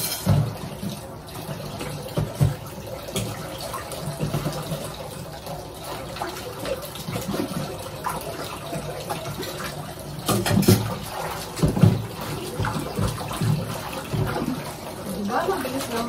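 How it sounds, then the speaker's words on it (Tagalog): Kitchen tap water runs while dishes are washed, a steady splashing stream with occasional clinks and louder bursts of splashing partway through, under intermittent talk. "Mabilis na maghugas ng plato."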